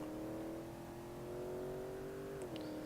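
A car in the BeamNG driving game accelerates at full throttle, its engine holding a steady, rising drone that drops briefly as it shifts near the end; no talking.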